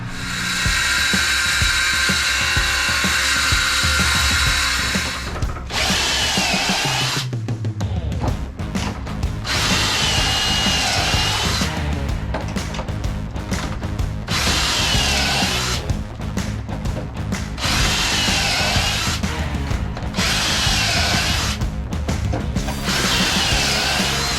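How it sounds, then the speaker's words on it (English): A Ryobi saw makes freehand cuts while building a compostable toilet, a loud, close, buzzing motor whine running in repeated bursts with short pauses between them. "this Ryobi with the right side drive honestly makes freehand cuts pretty dang straight"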